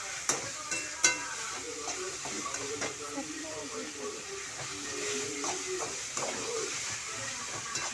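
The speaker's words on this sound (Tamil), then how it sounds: "தக்காளி போட்டு வதக்கிக்கலாம். தக்காளி நல்லா மசிஞ்சு வர அளவுக்கு நல்லா வதக்கிக்கோங்க" Tomatoes sautéing in a pan for a squid gravy, a soft steady sizzle with scattered stirring clicks and scrapes at moderate distance, a voice talking faintly beneath.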